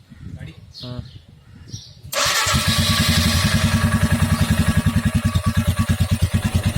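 Motorcycle engine fitted with a chain oiler kit, started and run during a test: a short burst of talk gives way to a loud, steady idle with a rapid, regular pulsing throb close by.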